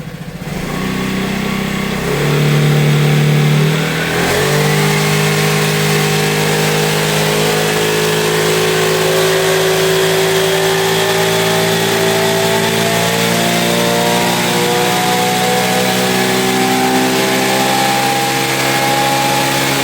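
A Vespa GTS 310 scooter fitted with an Akrapovic exhaust and a modified airbox revs on a dyno, its engine note climbing after a few seconds into a loud, sustained, steadily rising drone, close and alone with no talking.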